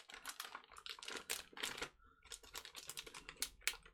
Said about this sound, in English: undoing the tape